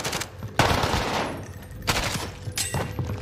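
Bursts of rapid automatic gunfire from a competitive online shooter match, loud and close, arriving in two or three dense volleys with brief gaps.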